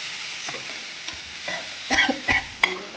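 Ripe peeled mango pieces drop into a pan of mango gojju, giving a few soft wet plops and stirring scrapes with a faint sizzle, close and clear with no talking.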